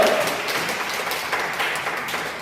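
A church congregation applauds during a Sunday service, steady dense clapping spread across the room at moderate loudness throughout, with no voices on top.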